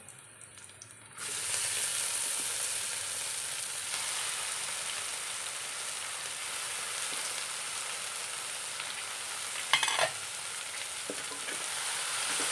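Chopped green chilli and spinach fry in a hot pan with a steady, close sizzle that starts abruptly after a brief quiet moment, with occasional stirring scrapes and a louder clatter near the end.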